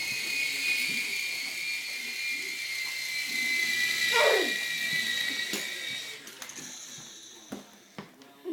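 An Air Hogs toy helicopter flies with a steady high, whiny rotor buzz that rises and swoops briefly mid-flight, then sputters and cuts out into scattered clicks and knocks near the end.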